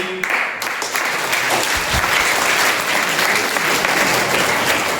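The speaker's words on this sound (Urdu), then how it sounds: "جو بچے تالیاں بجا رہے ہیں" Loud, sustained clapping from a group of children, a dense continuous wash of hand claps that carries on without pause.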